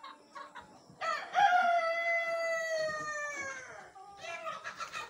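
A Black Australorp rooster in Pakistan crows close by, one long, loud, drawn-out call lasting several seconds, with shorter clucks just before and after.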